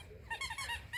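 A puppy's squeaky toy gives a quick series of three or four high, wheezy squeaks in close succession, up close and faint, with no voices.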